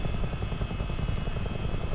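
A Chinook CH-47 twin-rotor helicopter in a flight simulator game drones with a low, continuous rotor throb and engine hum, steady and fairly loud without speech.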